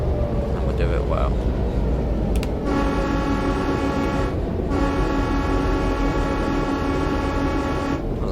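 A freight train rolls past in Train Sim World 3 on Cajon Pass, its sustained horn blasting over a heavy rumble and rattle of cars. A short note comes first, then a long, loud, steady chord with a brief break, and a voice talks faintly underneath.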